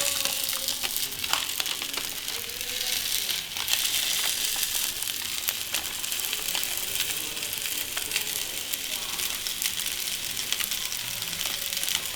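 Akki rotti, a rice flatbread, fries in a lightly oiled pan with a steady, soft, crackling sizzle that continues evenly throughout and carries no voices.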